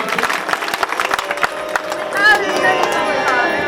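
Enthusiastic crowd clapping at an outdoor Bhagavat Katha religious gathering, a dense burst of many hands close by, with a faint voice and reverberant hall-like ambience blending in toward the end.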